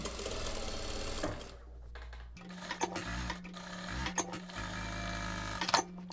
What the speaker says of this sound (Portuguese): Vou abrir a peça e vou fazer um pesponto aqui rente à borda de montagem, bem estreitinho.